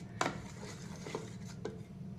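A spoon mixes burger tikki slurry in a bowl, giving three faint, sparse clinks and scrapes against a quiet background.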